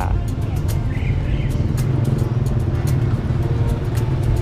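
Saturday afternoon traffic on Khua Wiang road in Vientiane: a continuous rumble of cars and motorbikes passing nearby, with scattered clicks and faint voices in the background.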